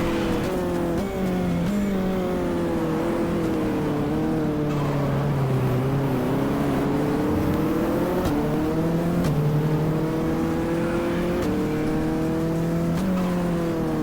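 Race cars in the GTR2 racing game at the Portland circuit, engines whining and rising through gears as several cars pass close by, a loud continuous roar with shifting pitch and occasional downshifts.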